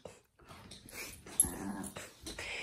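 An old dog growls and whimpers during play, with low rumbling growls and small whines in uneven close bursts separated by brief pauses.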